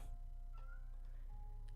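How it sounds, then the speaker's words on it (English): A faint cat meowing, a couple of soft drawn-out cries over a low steady hum, with no talking. "My cat is crying."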